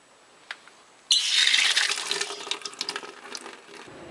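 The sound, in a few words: water draining from well pump pipes into bucket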